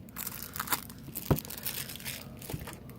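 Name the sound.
opening a plastic-wrapped pack of game cards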